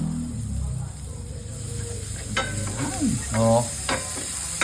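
Garlic sizzles in melted butter in a pan while a spoon stirs, a steady hiss with scraping strokes, and someone speaks briefly over it.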